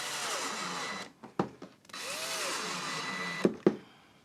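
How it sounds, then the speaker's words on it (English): Power drill driving screws through a clamped sacrificial wood piece into a box joint jig, two sustained whirring runs with a short stop between, then two sharp clicks near the end; no talking. "to drive in the screws"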